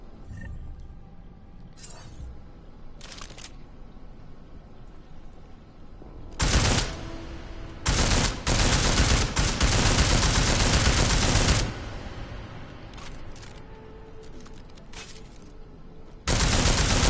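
Gunfire in the video game Deus Ex: Mankind Divided: a couple of brief early shots, then loud sustained automatic bursts lasting several seconds, a pause, and another burst starting at the end.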